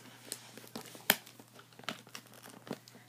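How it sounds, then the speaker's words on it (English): Cardboard packaging from a 1upbox unboxing is crinkled and torn open, faint scattered rustles with one sharp tearing rip in the middle, quiet and close with a low steady hum behind. "Tear this box open"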